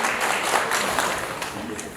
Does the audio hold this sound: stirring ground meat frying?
no